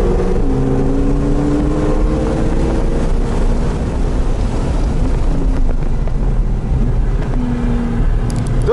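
Red Porsche racing at speed down a straight at a Sport et Collection track event, engine droning loud with rising and shifting tones under heavy wind buffeting from inside the car.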